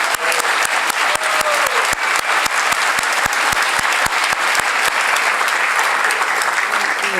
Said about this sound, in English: we should give one more round of applause for all of our speakers